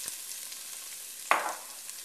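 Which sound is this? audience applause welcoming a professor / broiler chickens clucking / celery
celery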